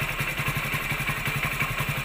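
A Hero Splendor BS6 motorcycle engine idling, a close, steady, rapid thumping putter with an even mechanical rhythm and no talk over it.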